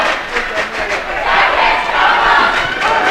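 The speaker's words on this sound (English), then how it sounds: "Angola's crowd is saying something, I can't tell what." Home basketball crowd in a high school gym for a varsity game between Angola and Fremont, chanting together in a loud, sustained roar with rhythmic swells that fill the whole stretch.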